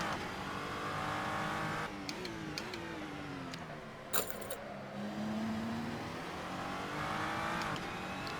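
A GT3 race car engine drones and revs in a Le Mans racing video game, pitch rising and falling through gear shifts, with a sharp brief click partway through and no talking.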